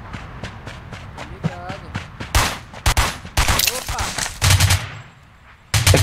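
Rapid bursts of automatic gunfire in a video game crack loudly in short volleys, with footsteps and a voice talking between shots.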